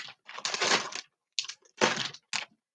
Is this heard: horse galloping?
no